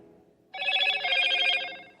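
A telephone rings loudly in a home workspace, one long electronic trill that starts abruptly, holds for about a second and a half and then fades, sounding alone with no talk over it.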